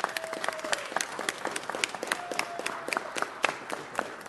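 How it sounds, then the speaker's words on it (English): Audience applause breaks out at a Los Angeles city council meeting, a steady patter of many hands clapping in a crowded chamber, sustained and even throughout with no one speaking. "Let's give him a round of applause for that."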